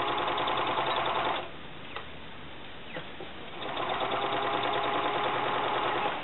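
A sewing machine stitches fabric in a steady, fast mechanical whir, pauses for about two seconds with a couple of small clicks, then resumes at the same even buzz to the end.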